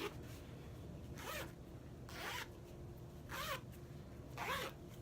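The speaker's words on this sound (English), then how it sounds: "Zipper on denim." A zipper on a denim item is pulled back and forth four times in quick rasping strokes, close up and clear over a faint steady hum.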